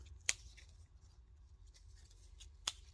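Two sharp, quiet scissor snips cut surplus thread on a balloon decoration, spaced a couple of seconds apart against a near-silent room.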